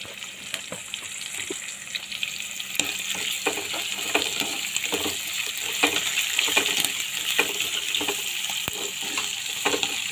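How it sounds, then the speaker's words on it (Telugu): Curry leaves frying in hot oil for a Telugu thotakura pesara pappu curry, a steady close sizzle with crackles and stirring scrapes throughout and no talking. "కొద్దిగా కరివేపాకు వేసుకొని ఫ్రై చేసుకోవాలి"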